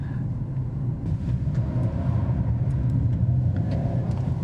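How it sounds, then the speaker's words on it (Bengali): A 2025 Suzuki Grand Vitara Hybrid slides through a turn, a steady low engine and road rumble heard from inside the car, with faint tyre noise and no talk. "গাড়ি স্লাইড করছে কিন্তু মানে কন্ট্রোল আছে।"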